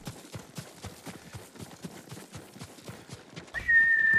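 A horse gallops in the Ghost of Tsushima video game with rapid, steady hoofbeats close up, then a whistling tone and louder wind-like noise take over near the end.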